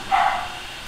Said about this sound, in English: You have to excuse my dogs barking in the background